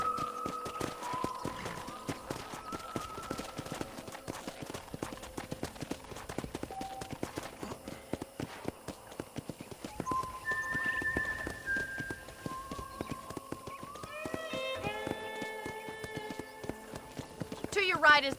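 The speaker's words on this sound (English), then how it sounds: "let's see if you can still ride a horse" Horse hooves clip-clopping at a steady walking pace in Red Dead Redemption on a ranch, a continuous rhythmic patter under in-game dialogue and soft music.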